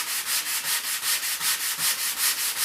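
Wood rubbed by hand over sandpaper laid flat on a board: a steady back-and-forth rasp of about a dozen even, close strokes, each a bright scratchy swish, with no talking.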